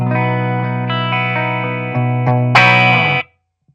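A clean electric guitar through a NUX Mighty 40BT modeling combo amp rings out in sustained chords and single notes, bright and clear at close range, before cutting off into silence.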